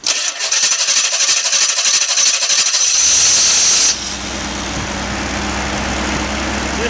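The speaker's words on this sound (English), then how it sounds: "So, generator, over to the control panel. We'll just fire it up." A V8 LPG three-phase 50 kVA generator cranks with a rapid whirring starter for about three seconds, catches with a loud rush, then settles into a steady, close, even running drone.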